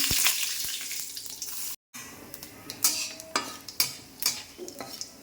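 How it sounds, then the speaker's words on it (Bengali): Whole spices such as cardamom, cinnamon, cloves, white cumin and bay leaf frying in hot oil, giving a soft steady sizzle with scattered sharp crackles and a few louder bursts from stirring, with no talk. "দশ সেকেন্ড একটু ভাজার পর যেহেতু তেলটা ভালো মতন গরম হয়ে গেছে"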